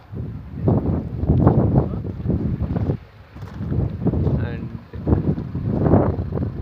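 Strong wind and rain sweep through a hilly area, with heavy gusts buffeting the microphone in waves while a person talks over the roar.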